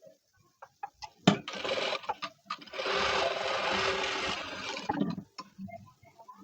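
Sewing machine stitching a blouse with double piping, short bursts of close stitching around a longer steady run, broken by clicks and fabric handling.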